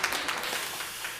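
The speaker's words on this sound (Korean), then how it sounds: "박수 한번 하겠습니다." Church congregation applauding during a Sunday sermon, a diffuse wash of many hands clapping steadily and fairly quietly for just over a second, with no voices over it.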